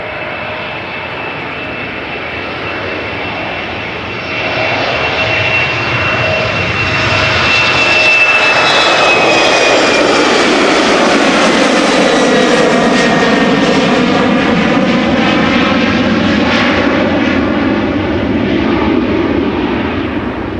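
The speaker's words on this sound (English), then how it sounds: "This is an Embraer 192 Bergen." An Embraer 192 jet airliner departs Amsterdam Schiphol Airport at close range, its engines a loud continuous roar with a rising whine that swells and then holds steady as it passes, heard alone without talk.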